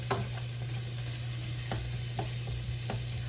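Green beans sauté in a hot skillet with garlic powder, salt and pepper, giving a steady sizzle over a constant low hum, with a few scattered scrapes and taps from stirring.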